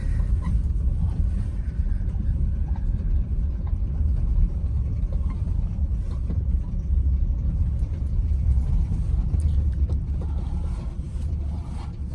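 A 2002 Ford Explorer Sport Trac engine with a failing timing chain rumbles steadily at idle, low and heavy, with a faint mechanical rattle riding over the continuous drone.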